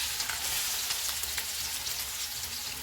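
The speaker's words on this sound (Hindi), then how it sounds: "ऑयल गर्म हो गया, इसमें प्याज डालेंगे" Onions drop into hot oil for a white mutton korma and fry with a loud, dense, continuous hiss and crackle, close up and steady throughout, with no talking.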